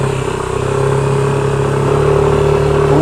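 A motorcycle being road tested, its engine running steadily with a buzzing, slightly clattering tone that rises a little toward the end, close and fairly loud.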